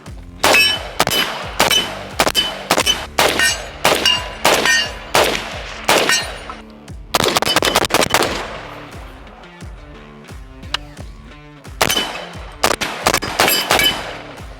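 Rapid strings of 300 BLK pistol shots ring off steel targets, each sharp crack followed by a metallic clang, fired in quick bursts with short pauses between them, loud and close.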